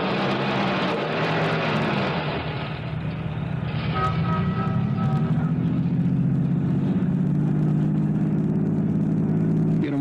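A car engine turns over and settles into a steady low hum as the vehicle pulls away and drives on.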